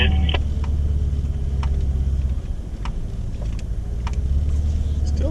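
A 4WD vehicle driving along a remote Cape York beach below the high tide mark, with a steady low engine rumble and road noise close up, plus scattered sharp ticks and clicks throughout.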